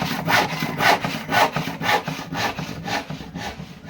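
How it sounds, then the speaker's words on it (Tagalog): Hand saw cutting through wood at a boatbuilding site, a steady back-and-forth rhythm of about eight strokes with rasping pulses, close and alone. "Sa baba naglalagari si Boss Rick."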